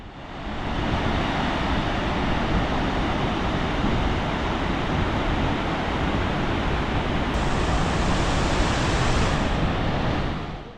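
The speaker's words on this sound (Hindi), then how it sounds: "इतने पास से झरने की आवाज़ कुछ ऐसी होगी।" Roaring waterfall on the Kaveri river at Sivanasamudra, heard from very close: a loud, dense, unbroken rush of falling water that fills the whole clip steadily, with no voices.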